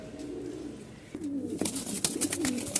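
A Lotan pigeon pair coos softly nearby, a few low throaty calls over faint background noise and brief rustling.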